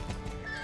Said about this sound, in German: Es gibt hier die Pferde.